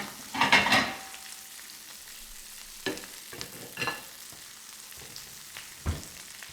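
Thick steaks sear in butter in a pan, giving a quiet steady sizzle broken by a few sharp clatters and scrapes as the meat is moved and turned on its side.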